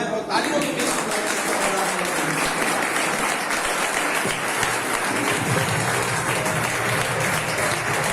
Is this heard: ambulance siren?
no